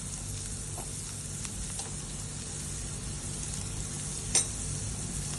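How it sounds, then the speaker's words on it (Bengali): Sliced onions with a pinch of salt fry and get stirred in a pan, giving a continuous soft sizzle with light scraping and one brief sharp clink near the end. "আমি একটু নাড়িয়ে চাড়িয়ে নিচ্ছি পেঁয়াজগুলোকে, একটু নুন দিয়ে দিচ্ছি।"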